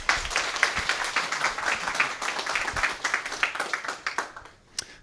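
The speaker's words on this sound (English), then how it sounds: "Please get applause and welcome Mr. Jacob Rusher." Audience applause welcoming a speaker onstage at a tech conference session, steady clapping filling about five seconds before tapering off near the end.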